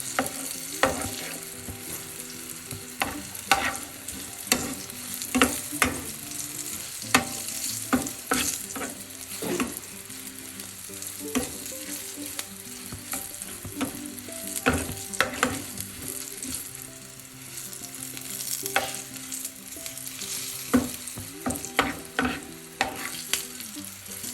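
Green chillies sauté on low heat in a pan for a curd curry, a continuous gentle sizzle marked by frequent rhythmic spoon scrapes and taps against the pan, close and without talking.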